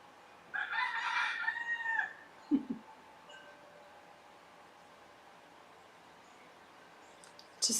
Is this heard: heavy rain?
no